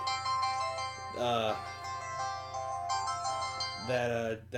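A mobile phone ringtone plays a repeating melodic pattern over a steady low hum, with rising tone flourishes recurring, loud and close.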